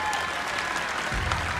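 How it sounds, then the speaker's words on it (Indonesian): An audience applauds at an Indonesian televised singing contest, KDI 2022, a short burst of dense clapping from a crowd. "Tapi kita berikan tepuk tangan untuk Dayan dan semangat ya untuk Dayan."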